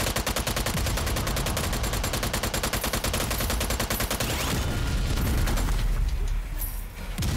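Rapid, evenly spaced automatic gunfire in Strange Brigade, loud and close, a steady stuttering burst lasting several seconds before giving way to heavier, rumbling combat noise.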